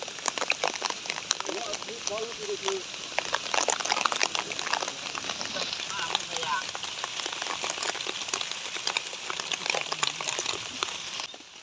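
Rain falls steadily in a dense patter of drops, while people talk intermittently underneath.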